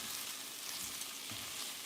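Olive oil sizzling in a skillet, a steady bright hiss of frying with faint crackles underneath, close and continuous without talk.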